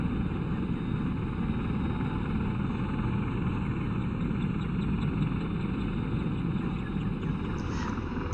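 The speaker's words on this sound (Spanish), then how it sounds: "el helicóptero siempre intenta mantener las mismas revoluciones del rotor" An AH-64D Apache helicopter in the DCS flight simulator holds a steady engine and rotor drone, a continuous even hum with whining tones layered on top, unbroken throughout.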